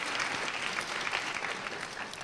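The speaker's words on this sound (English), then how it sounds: "Give yourself a round of applause on that." A crowd at a campus environmental event applauds steadily, dense clapping filling the whole stretch at an even, fairly loud level.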